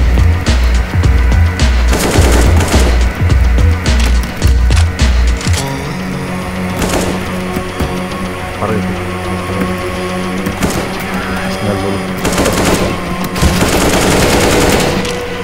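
Heavy, loud gunfire in Counter-Strike: Global Offensive, rapid machine-gun bursts rattling steadily at first, then scattered shots and sharp blasts continuing throughout.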